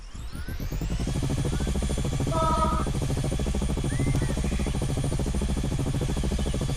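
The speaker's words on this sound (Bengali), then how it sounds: "ভাই, হেলিকপ্টার পেয়ে গেছি।" Helicopter in the video game Dude Theft Wars, its rotor spinning up into a loud, steady rhythmic chopping drone that holds throughout.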